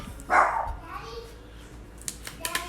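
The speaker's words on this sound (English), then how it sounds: "that's my dog barking" A dog gives a short bark early on, followed by a voice and some faint background clatter.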